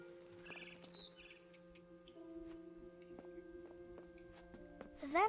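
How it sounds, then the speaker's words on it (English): Faint barn swallow chirps in the video game What Remains of Edith Finch, over a steady electrical hum, with scattered ticking clicks and a burst of rising tweets at the end. "Then I heard chirping outside my window."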